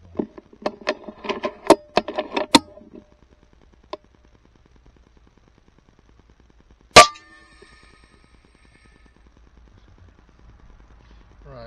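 An FX Impact .22 air rifle firing Wildman slugs at a 275-yard target: one sharp, clean crack stands out, preceded by a cluster of quick clicks and metallic handling noises, then quiet outdoor air.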